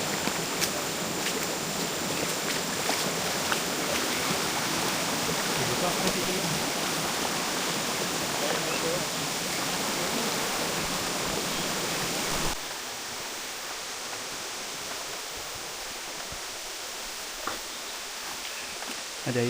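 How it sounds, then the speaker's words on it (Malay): A waterfall behind a hiker on a trail rushes with a steady, broadband roar, loud and close, that drops abruptly to a softer wash partway through. "Ada air terjun kat belakang."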